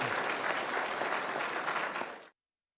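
Audience applause at a live event in Île-à-la-Crosse, where the Saskatchewan premier apologized to school survivors, with steady, dense clapping that holds for about two seconds and then stops abruptly.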